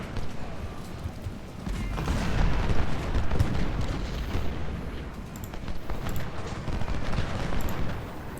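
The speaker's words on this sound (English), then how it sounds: "Right now we've got 2 guns firing at Root." Artillery guns firing in the Civil War strategy game Ultimate General: Civil War, a dense continuous barrage of overlapping booms and cracks with distant rumbling, steady in loudness throughout.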